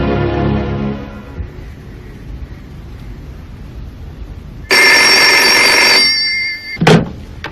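A telephone rings loudly in a burst of electronic trilling that stops abruptly, then a brief clatter follows, with quiet room tone and a murmured voice before it.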